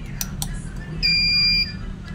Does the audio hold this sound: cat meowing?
no